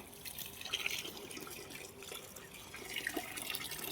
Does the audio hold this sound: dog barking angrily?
no